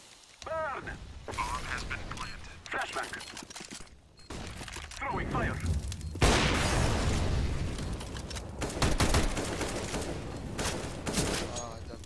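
Grenade blasts and bursts of gunfire in the shooter Counter-Strike on the Mirage map, heavy booms and rattling shots close by, with players talking over the action throughout.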